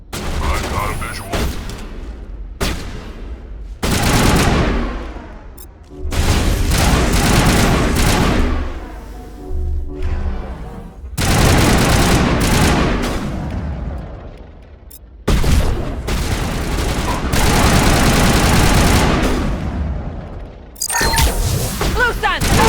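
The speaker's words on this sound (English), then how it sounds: "Protocol 4, deploy suppressive fire!" Suppressive gunfire in Mass Effect: loud, dense bursts of rapid shots and booming impacts, broken by short pauses, with a voice briefly heard between volleys.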